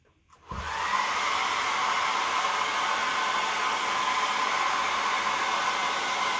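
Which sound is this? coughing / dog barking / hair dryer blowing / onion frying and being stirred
hair dryer blowing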